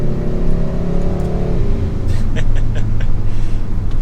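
A 2022 Hyundai Sonata N Line 2.5T FWD sedan at full throttle from about 4,000 rpm, recorded from inside the car. A steady engine drone rises in pitch, then shifts into a broad, loud roar with road and wind noise.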